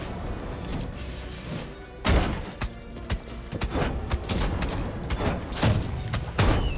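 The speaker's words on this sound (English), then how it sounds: "I can just shoot them with my cannon" A pirate character's cannon fires repeatedly in the video game Rogue Legacy 2, heavy booming blasts landing every second or so amid thuds and game clatter, loud and close with no talk over them.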